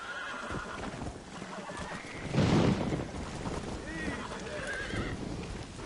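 A horse whinnies loudly at close range in the middle, with clip-clopping hooves and wind noise around it and fainter neighs before and after, while people talk at times.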